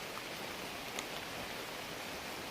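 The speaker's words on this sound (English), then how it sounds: "It's raining." Light rain falls on a wooded hiking trail in Vermont, a faint, even hiss of drops with no distinct hits, steady throughout.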